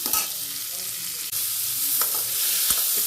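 Salted bitter gourd sautéing in a pan for gravy, giving a constant loud sizzle, with close spatula scrapes and stirring knocks breaking through every second or so.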